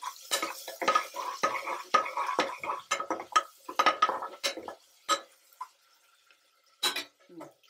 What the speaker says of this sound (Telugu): ఇప్పుడు ఆనియన్ గోలాలి మంచిగా